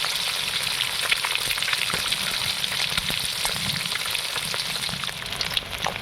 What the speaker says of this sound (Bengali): ডিমটা ভালো করে লাল করে ভাজবো।